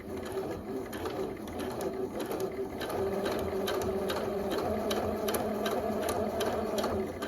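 A sewing machine stitching slowly with a twin needle, giving a steady even mechanical whir with a fine rhythmic ticking, close and fairly quiet.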